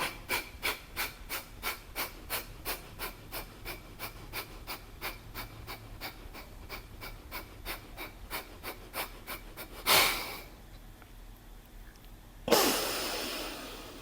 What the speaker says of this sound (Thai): จากนั้นหายใจออกสั่งรัวๆเลยค่ะ